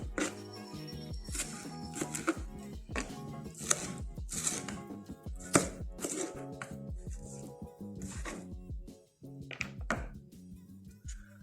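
An onion being diced for a Mexican-style tuna torta, with a quick, fairly regular series of close knife chops on a cutting board and a brief pause near the end.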